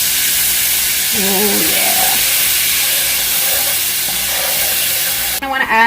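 Garlic sizzles loudly in a hot pan for a vegan lentil potato dahl, a dense continuous hiss with stirring scrapes, while a voice speaks briefly over it.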